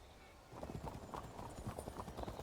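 Horses in the medieval strategy game Fields of Glory: Kingdoms, with a steady patter of clip-clopping hoofbeats galloping across the field and faint background noise, while someone talks over them.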